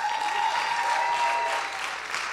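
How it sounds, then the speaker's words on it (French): Audience applause for a guest on a French-language glitter-themed variety show, steady and dense for the full stretch, with no talking over it. "On applaudit Guillaume Bareil."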